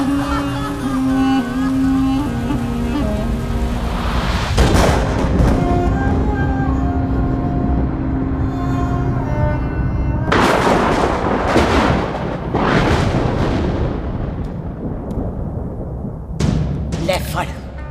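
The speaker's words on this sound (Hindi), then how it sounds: "मार दी सारी गोलियां उसकी छाती में।" Gunfire rings out in a film scene, several loud, sharp bursts cracking out in clusters over tense music and sustained tones, with a voice speaking between the shots.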